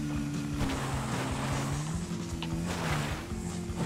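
Motorcycle engine in GTA V during a five-star police chase, a steady droning hum with a slowly shifting pitch, continuous and fairly loud throughout with no talking.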